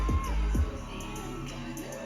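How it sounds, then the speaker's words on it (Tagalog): A crowd screams and cheers at a live performance on Escolta, a dense roar of voices with shrill whoops rising over it, and a voice speaks nearby. "Naririnig mo rin yung sigawan ng tao."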